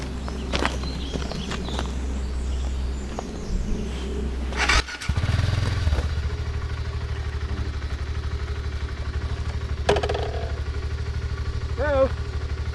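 A motorcycle towing another motorcycle with a recovery system pulls away: a steady idling engine rumble, a brief clatter midway, then the engine note rising and holding as it rides off, nearby, with faint bird calls.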